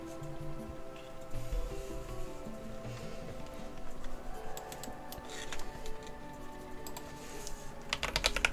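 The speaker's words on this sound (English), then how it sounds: "Hopefully the keyboard's not too loud." Fingers type on a computer keyboard while working in Blender, a continuous quiet patter of key clicks with irregular rhythm and a faster burst near the end, close but soft, with no talking.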